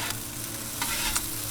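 Pork fried rice with eggs stirred on a 22-inch Blackstone griddle, a continuous sizzle with a couple of short spatula scrapes, close and with no speech.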